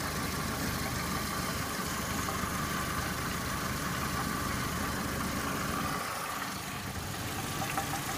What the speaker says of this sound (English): The only thing I can figure is it sounds like a catalytic converter.